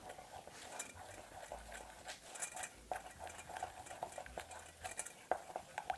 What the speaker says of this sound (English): next step calls for me to put in the cocoa and stir these two items together